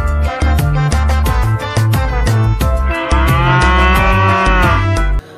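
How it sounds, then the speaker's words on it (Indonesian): In the video game Jurassic World Evolution 2, a cow moos repeatedly, loud and deep. The moos come in rhythmic bursts over a pulsing music-like backdrop, and no one speaks. "Wow, di sini ada seekor sapi lagi"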